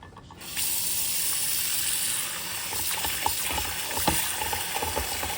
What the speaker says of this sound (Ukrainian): Ну що, починаємо її драяти по третьому кругу.